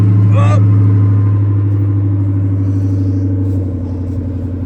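On a frosty morning, a Detroit 60 series diesel in an International truck runs after a cold start. It gives a steady, deep, loud rumble close by that eases slightly near the end, with a brief voice early on.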